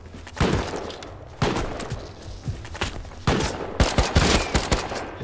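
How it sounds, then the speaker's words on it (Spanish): Gunfire in the survival game Rust crackles in repeated sharp bursts, several volleys of semi-automatic shots spaced through the clip with louder clustered cracks near the end, fairly close and loud with no talk. "Están disparando."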